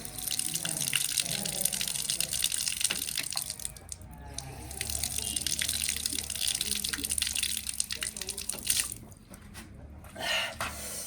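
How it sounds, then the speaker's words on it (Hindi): Water from a temple spring flows and splashes while someone drinks, a continuous gushing tap-like stream with brief breaks and splashy bursts, close by and moderately loud. "मैं भी पानी पीऊँगा अभी"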